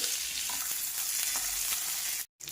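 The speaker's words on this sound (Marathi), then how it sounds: "1 इंचभर चिंच टाकून घ्यायची आणि पुन्हा हे भाजून घ्यायचे" Curry leaves and a small piece of tamarind roast in a dry pan for a South Indian coconut chutney, giving a steady close crackle and scrape of stirring. The sound cuts out briefly near the end, and no one speaks.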